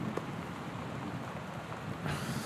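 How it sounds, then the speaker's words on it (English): Steady rain falls outside a house in the game Gone Home, a dense continuous hiss with a low rumble of thunder that swells near the end. "You've got lightning and thunder outside and rain"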